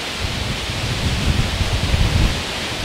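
Wind from the remnants of Hurricane Debbie blows steadily through a New Jersey kitchen garden, a loud broadband rush with gusty low rumbling, continuous and without talk.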